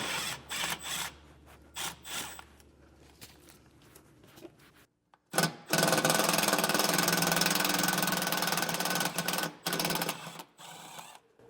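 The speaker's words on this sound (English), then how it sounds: "So let's go ahead and remove those bolts real quick." A power tool spins out bolts from the underbelly of a camper during a leaf spring suspension install, giving loud whirring bursts: several short runs, a brief pause, then one long sustained run followed by more short bursts, close by.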